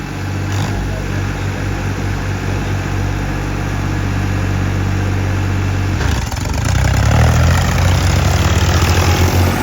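A tractor engine runs steadily at about 2000 RPM, a loud close drone with a low throbbing hum that shifts and grows rougher partway through, with no speech over it.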